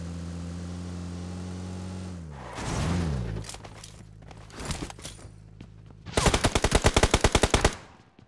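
Bursts of automatic gunfire in a PUBG match on the Livik map, a few scattered shots early and then a loud rapid volley of evenly spaced rounds near the end, over a steady engine drone.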